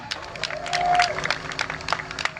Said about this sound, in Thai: ขอเสียงปรบมือหน่อยครับ